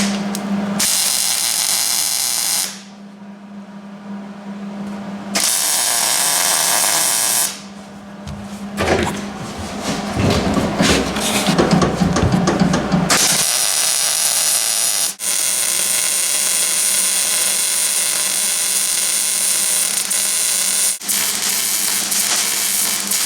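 Steel plates being welded onto a fuel tank for a twin-turbo 5.2 Magnum build, a loud sustained crackling and hissing of arc welding in several long bursts with brief pauses between them, no talking.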